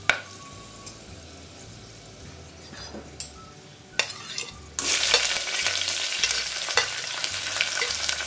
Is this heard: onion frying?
yes